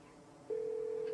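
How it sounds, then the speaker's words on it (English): A phone is dialed in the video game Scarlet Hollow: after a faint hum, a steady electronic tone starts and holds evenly to the end. "You pull out your phone and dial your cousin."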